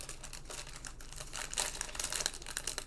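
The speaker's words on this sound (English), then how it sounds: "I'm sorry for the crinkling." Plastic bag crinkling and rustling up close as crochet hooks are packed back into it, a continuous busy crackle that grows louder toward the end, with no speech.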